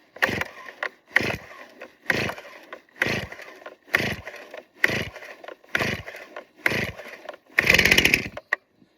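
A Stihl chainsaw on choke is pull-started over and over, each yank of the cord giving a loud, close ratcheting rasp at a steady rhythm, about nine pulls, the last one catching into a brief sputtering burst.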